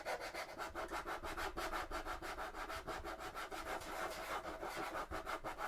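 Rapid back-and-forth hand sanding on plastic miniature thigh armour for a Warhammer 40K Sisters of Battle figure, partly coated in rubbery plastic dip, gives a loud, continuous scratchy rasp with fast regular strokes and no talk.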